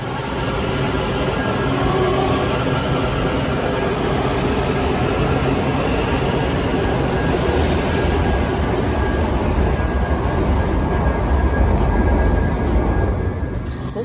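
A loud, continuous rumble and rattle of a moving Washington DC subway train fills the space, steady and close throughout with no clear voices.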